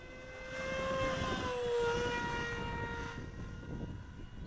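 A Reptile S800 V2 radio-controlled model plane is flying past, giving a steady distant whine whose pitch slides and swells gently as the throttle eases. No one talks.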